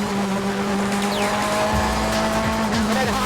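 Vauxhall Vectra race car at speed on a circuit, engine note climbing then dropping as it shifts down through the gears, with tonal engine harmonics sweeping up and down over steady road and wind noise.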